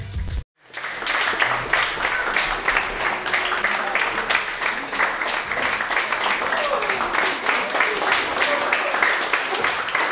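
After a brief silence, an audience at a figure skating event bursts into loud, close applause, dense rapid clapping that holds steady, with a voice faintly audible beneath the crowd.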